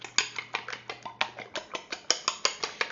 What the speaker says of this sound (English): give them a real quick whisk here with just a fork